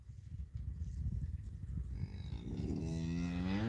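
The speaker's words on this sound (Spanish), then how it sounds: "Chacho, que no vienen las vacas para acá" Cows mooing on a farm, a herd of cattle with a long, loud, low moo rising near the end over steady outdoor noise.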